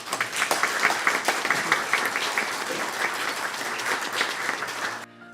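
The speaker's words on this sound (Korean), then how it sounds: "함께 박수로 환영하겠습니다." A church congregation gives warm, steady applause to welcome a visiting lay preacher, the clapping dense and continuous before it cuts off abruptly.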